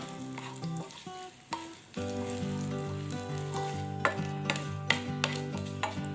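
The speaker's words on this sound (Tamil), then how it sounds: "இது பொன்னிறமாகிற வரைக்கும் வறுத்துடலாம்." Mustard seeds, urad dal, chana dal and dried chillies fry in hot oil for a paniyaram tempering, giving a steady sizzle with small pops and crackles under background music.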